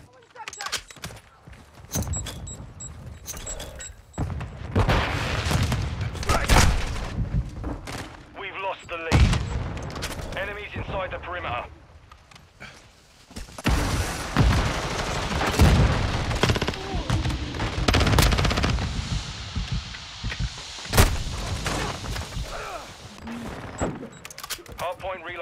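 Repeated bursts of gunfire in Call of Duty: Modern Warfare II, with rapid automatic volleys and booms that come and go in loud clusters, while in-game voices call out over the shooting.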